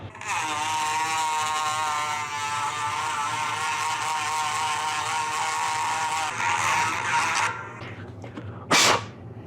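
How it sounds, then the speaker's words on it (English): A Dremel rotary tool cuts metal on a Campagnolo Levante gravel bicycle wheel, a close, steady high-pitched whine that runs for several seconds before cutting out, followed by one brief sharp burst. "There is the handy Dremel tool."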